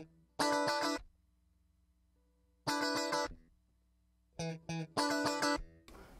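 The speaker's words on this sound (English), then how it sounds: "I tracked up some funk guitar" Funky electric guitar, panned left and right, plays short, choppy rhythmic stabs in three bursts separated by silence, clean and close.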